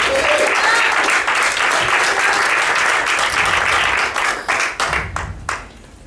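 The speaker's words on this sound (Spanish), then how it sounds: "Ese aplauso que sea para el Señor, hermano." A church congregation gives a strong round of applause during a sermon, dense clapping that thins into a few scattered claps and trails off toward the end.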